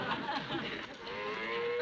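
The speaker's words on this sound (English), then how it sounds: "Get that cow out of here." A cow moos in a scene from the sitcom Bewitched, a long, drawn-out low moo that fills the whole moment, loud and close, with no talking over it.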